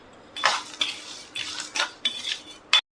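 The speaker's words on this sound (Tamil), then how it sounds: "இப்போது ஒரு பேனில் நம்ம எடுத்து வச்சுருந்த எல்லாத்தையுமே சேர்த்து லைட்டாக வறுத்துக்கலாம்" Ingredients for an Aadi coconut filling dry-roasted in a pan, heard as a handful of close, distinct scraping and clattering strokes of a utensil against the metal, with short gaps between them and no voices.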